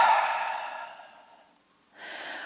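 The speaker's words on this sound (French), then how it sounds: "Et vous soufflez par la bouche." A long, steady exhale through the mouth during a gentle stretching and breathing exercise for back relief. The breath fades out over about a second and a half, and a second breath follows. No speech.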